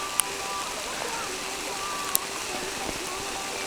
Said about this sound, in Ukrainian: Друзі, подивіться, йде дощ з снігом.